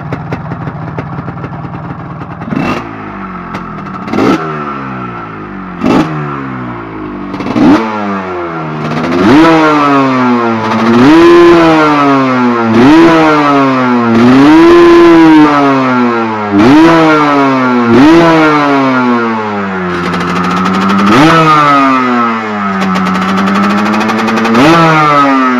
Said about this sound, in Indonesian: Okey, motor pada hidup.